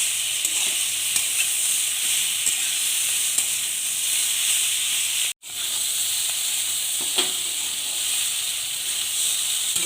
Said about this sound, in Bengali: রসুন বাটা দিয়ে একটু কষিয়ে নেব কিছু সময়ের মতন